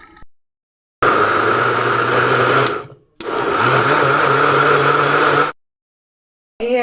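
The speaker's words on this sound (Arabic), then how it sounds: "انا نطحن العويصر ديالي اللهم بارك، وغادي نشاركو مع خوتي ان شاء الله" Blender grinding cucumber and orange into juice, a loud steady motor whir in two long bursts separated by a brief pause, with no talking.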